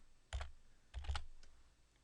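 Keys tapped on a UK computer keyboard, two short bursts of clicks roughly half a second apart with a faint trailing tap, quiet and close with no talk.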